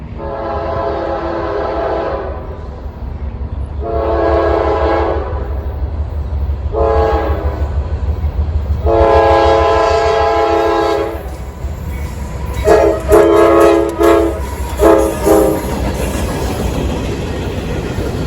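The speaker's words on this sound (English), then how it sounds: "the southbound empty coal train that I was waiting on swiftly makes its way through Worthington" A southbound empty coal train rolls through Worthington, Ohio, sounding several long loud horn blasts followed by shorter ones over a steady rumble of rail cars passing close by.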